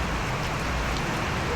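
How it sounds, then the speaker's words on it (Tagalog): Heavy rain in the Philippines beating down in a dense, steady roar across a short stretch, loud and close. "Yan, putol-putol yung ulan pero malakas."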